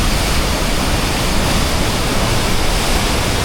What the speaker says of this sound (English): We've made it to the waterfall.